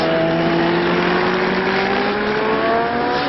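A Honda racing motorcycle engine howls steadily at high revs, its pitch climbing slightly as it accelerates, loud and close with no voices.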